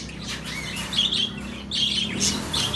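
Lovebird or parakeet chicks chirp close by in a breeding cage, with thin, high, repeated cheeps over a steady low background hum and no one talking.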